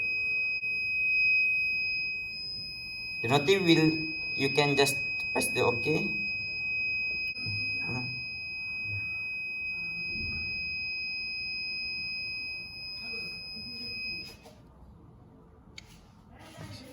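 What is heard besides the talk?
buzzer of Raspberry Pi IoT fire detection device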